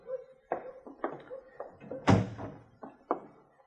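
A door closes with a solid wooden thunk as a sound effect in a 1955 Gunsmoke western radio drama, set among lighter knocks and taps, near and distinct.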